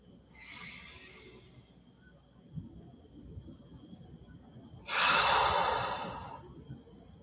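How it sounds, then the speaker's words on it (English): A deep, slow breath taken during a calm guided moment, a soft airy inhale followed later by a louder, longer exhale, close and alone over a faint background of chirping insects. "Big inhale and an even bigger exhale."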